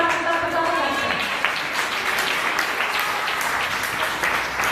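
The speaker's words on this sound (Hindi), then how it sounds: "तो जो लोग तालियां बजा रहे हैं" A congregation claps during a worship service, a dense and sustained burst of applause close by, with a voice briefly audible at the start.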